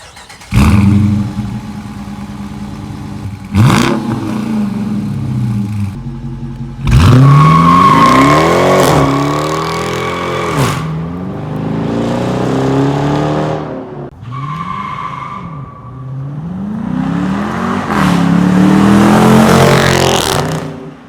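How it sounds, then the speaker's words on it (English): A 2020 Dodge Charger's Hemi V8 engine revs hard several times through a loud electronically controlled active exhaust, each burst rising and falling with crackling between, close and loud with no talking. "an electronically controlled active exhaust for that Hemi, which sounds absolutely amazing"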